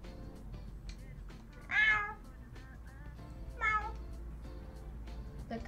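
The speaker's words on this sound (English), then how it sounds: "The cat is looking around." Two separate cat meows from the Persona 3 Portable video game, each short and fairly loud, rising over a steady low background hum with a quiet stretch between them.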